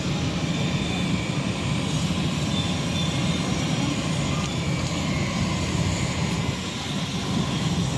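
Steady broadband roar of a Biman Bangladesh airliner's engines at the airport before a Sylhet to Dhaka flight, continuous and fairly loud with no break, and no talk.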